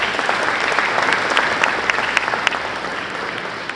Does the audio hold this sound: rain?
no